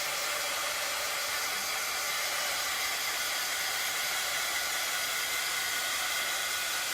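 Hair dryer blowing at painted dots on a Valentine XOXO craft project, a constant loud close whoosh that runs unchanged throughout with no talking.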